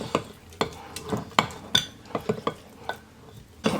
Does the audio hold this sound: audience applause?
no